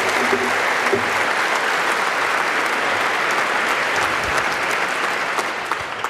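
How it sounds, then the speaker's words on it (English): Sustained audience applause for the panel at an IQ2 public debate on copyright and piracy; a full hall claps in a thick, continuous wash that holds steady before easing slightly at the end. "I'll ask you to continue your applause for a moment more for the panel"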